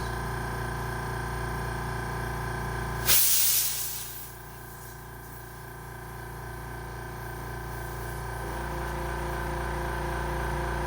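Air hisses loudly in a sharp burst into a tubeless bicycle tire being filled during an Axum tubeless conversion, then fades to a low steady background.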